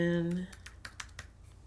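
Computer keyboard keys tapped while editing text in Cricut design software, a short run of light, separate clicks just after a brief voice, close and quiet.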